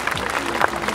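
A brief burst of audience clapping at a Cossack folk ensemble concert, with a voice speaking over it.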